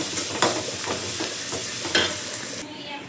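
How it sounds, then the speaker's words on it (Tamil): Curry leaves sautéing in a pan for crab curry give a steady, loud close sizzle, punctuated by a few soft stirring scrapes before the hiss abruptly drops away near the end. "கருவேப்பிலையும் போட்டு வதக்கிக்குவோம். இது வதங்கட்டும்."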